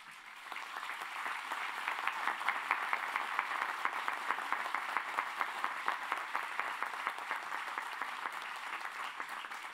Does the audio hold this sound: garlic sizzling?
no